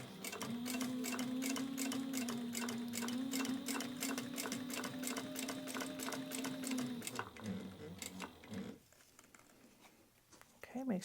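A sewing machine runs steadily, stitching up the side of a fabric neck pocket, a hands-free phone holder, with a rapid even needle patter for about seven seconds before slowing and stopping, followed by quiet room noise.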